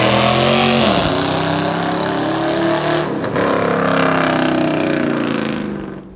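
A 2019 Dodge Charger Scat Pack revs hard on the street, its loud, close engine roaring continuously with short dips in pitch before climbing again, then easing off at the end.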